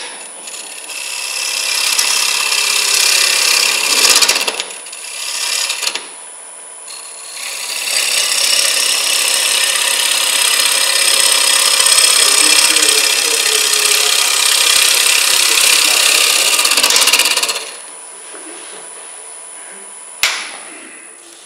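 A tool cutting a green wood bowl on a wood lathe gives a loud, close, continuous rasping hiss that breaks off briefly a few times before stopping, leaving a faint tap near the end.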